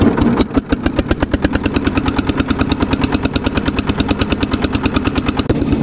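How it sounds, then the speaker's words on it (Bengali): A motorboat on the Teesta river chugs with a loud, close, rapid engine thumping that stays steady and even throughout, with no voices. "ফাইনালি নৌকায় উঠে পড়লাম, এই সীমানা থেকে চলে যাচ্ছি একদম ওই সীমানার দিকে।"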